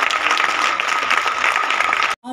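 Applause from an audience welcomes a speaker at an island service awards event, dense steady clapping that cuts off abruptly just before the end.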